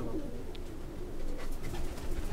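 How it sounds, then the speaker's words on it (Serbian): Pigeons coo softly and steadily at a loft during a visit to a fancier's birds, the low murmuring continuous throughout with faint background noise and no talk. "Uf, kako volim te goluba."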